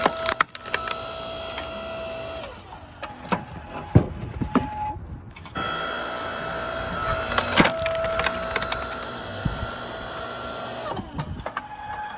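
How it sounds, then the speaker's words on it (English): Firewood being split by a log splitter, with cracking and splintering wood over a steady mechanical hum and several sharper breaks, no talking. "So now we're just splitting it with our handy dandy splitter."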